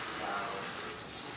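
Steady broadband sizzle of spices frying in a pan for a fish curry, with a sudden splash as water is poured in near the end; no voices.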